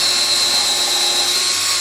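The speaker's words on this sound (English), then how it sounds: "drill through the bottom in a couple places right in the middle" A power drill whines steadily as it bores through the wooden bottom of a tool box, a loud, continuous close-up buzz with no talking.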